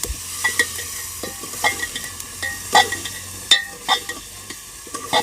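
Radish and chillies frying in a pan while being stirred, cooked in a Sindhi village kitchen: steady close sizzle under irregular scraping and clinking of the stirring utensil, with several sharper knocks against the pan.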